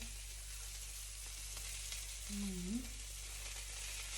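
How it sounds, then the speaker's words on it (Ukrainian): Steady, quiet sizzling of zucchini frying in a pan over medium heat, with a brief scrape of utensils near the end. "обсмажую з двох сторін. Ну, до готовності. Смажу на середньому нагріві."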